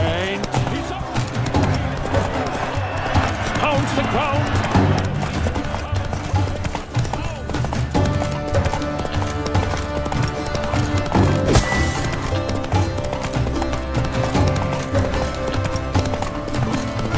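Roach, Geralt's horse in The Witcher 3: Blood and Wine, gallops with a steady, rapid clip-clop of hooves under a dense bed of game music and ambience, with a brief whinny among the hoofbeats.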